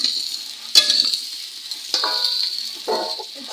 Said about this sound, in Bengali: আলুগুলো একটু নাড়াচাড়া করে নেবো।